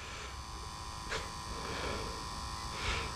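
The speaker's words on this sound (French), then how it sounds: "il doit avoir de l'herbe coincée dans le ventilo du Vario" A steady electric buzzing hum from the speed controller fan of an Arrma Kraton 1/5 RC car, likely jammed with grass, straining constantly with a couple of brief rasping flares.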